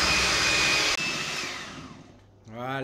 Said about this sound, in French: On attaque au batteur jusqu'à ce que le mélange soit mousseux.